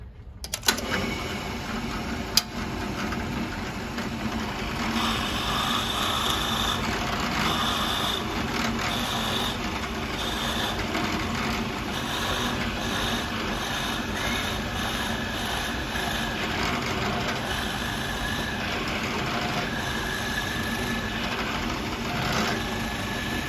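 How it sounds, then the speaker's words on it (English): A steady mechanical whir of a power drill boring holes in wood, running continuously, fairly close and even in level, with no pauses throughout. "And now we're ready to drill."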